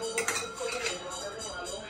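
Freshly washed dishes and cutlery clink and rattle together in a dense, continuous jumble of close metallic and ceramic knocks at home, with faint voices underneath.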